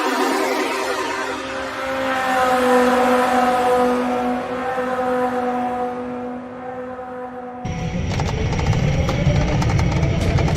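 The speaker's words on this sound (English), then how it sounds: "Just slowly ease into it. It's so slow. Full throttle." Car engine revving loudly at full throttle while a passenger rides along, the engine note climbing steadily and then switching to a harsher, wider roar partway through.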